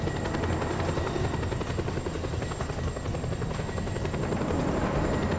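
A helicopter in the video game Just Cause 2 drones steadily with a constant rotor buzz, loud and close throughout, no talk.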